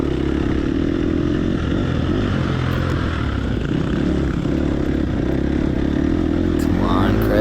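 An off-road motorcycle engine drones loud and steady during a hill race, its throttle held at a continuous buzzing pitch close to the rider, with faint wind noise and a brief rising whine near the end.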